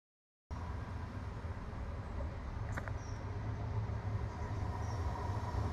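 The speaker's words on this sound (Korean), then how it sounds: "건너편 기차도 승객이 없어 그냥 통과해버리네요" A train passes through a small rural British railway station without stopping, a steady rumbling roar that grows slightly louder, with a faint high squeal partway through and no voices.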